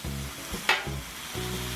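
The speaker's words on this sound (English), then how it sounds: "We just need to cook the mortadella up a little bit, get it frying." Mortadella slices frying in their own pork fat on a Blackstone griddle, a soft continuous sizzle with a brief sharp spatula scrape midway, quiet and close with no voices.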